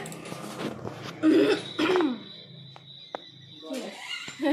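A person coughs and clears their throat several times in short rough bursts, close and fairly loud, with quieter background noise between the bursts.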